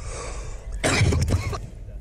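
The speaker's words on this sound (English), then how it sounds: "That's your last time coughing in my ear, bro." Someone coughs once in a short, harsh burst into a voice chat microphone during a Rainbow Six Siege match, loud and close against a quiet background.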